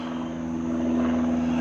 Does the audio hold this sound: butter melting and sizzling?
no